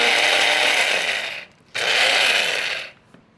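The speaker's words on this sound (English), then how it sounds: "A little spice grinder like this works very well. You want to really pulverize the rice." A small electric spice grinder pulverizing raw rice into fine powder gives a loud, steady whirring buzz in two bursts, briefly cut off between them, with no talking.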